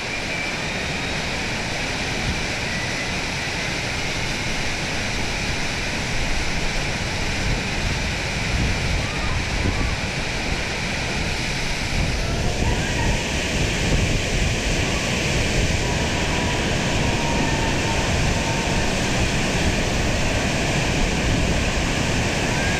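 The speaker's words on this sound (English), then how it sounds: "The waterfall is right in front of us." A waterfall inside a cave in Iceland roars steadily and loudly, a dense wash of crashing water echoing off the enclosed rocky space, with no speech.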